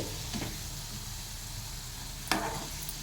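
Potatoes fry in oil with a moderate, even sizzle, a brief stir around the half-second mark and a louder scrape or clatter shortly before the end, without speech.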